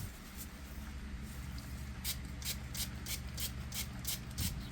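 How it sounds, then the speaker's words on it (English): Crinkly rustling builds into a rapid series of short, crisp crunches, close up and fairly quiet, as organza ribbon is scrunched in a hand. "crunch it up in my hand."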